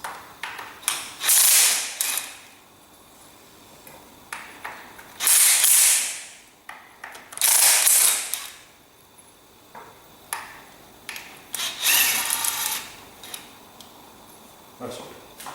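Bolts are loosened on a Ferguson TEA20 tractor, with close bursts of ratcheting clicks and metallic turning in irregular spurts separated by quiet pauses.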